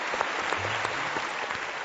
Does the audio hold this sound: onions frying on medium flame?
no